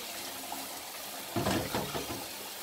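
Rice being rinsed in a bowl of water for chicken biryani, a short burst of splashing and swishing water rising midway through and fading into soft trickles.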